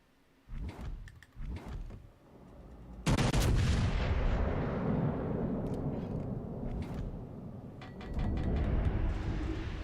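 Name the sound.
warship gunfire in World of Warships Legends video game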